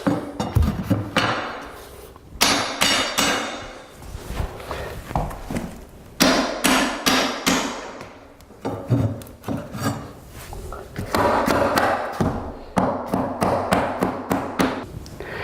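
Hardwood floor boards tapped into place with a pull bar during an indoor floor install, giving repeated sharp wooden knocks in uneven bursts with short pauses between, close and fairly loud.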